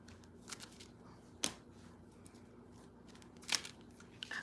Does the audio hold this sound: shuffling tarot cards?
yes